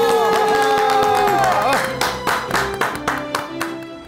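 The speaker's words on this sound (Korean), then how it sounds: "큰 박수로 맞아주시기 바랍니다." Studio audience clapping and cheering to welcome a guest on a talk show, a sustained burst of applause that thins into scattered claps toward the end, with a voice talking over the start.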